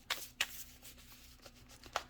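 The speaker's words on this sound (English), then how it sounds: "I'm going to close my eyes to shuffle for this deck" A deck of tarot cards being shuffled by hand, a few soft riffling bursts spaced irregularly, quiet and close with no talking.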